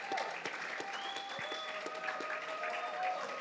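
A crowd at a back-to-school revival event in Istanbul claps steadily. The dense, even applause holds at moderate volume, with faint tonal whistles and a few sharper claps poking through.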